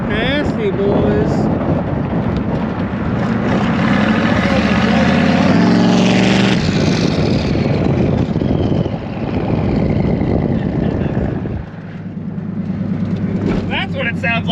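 Turbocharged small-block Chevy V8 revving hard nearby, a loud roaring drone that climbs and falls, buffeted by wind noise, with a voice talking over it.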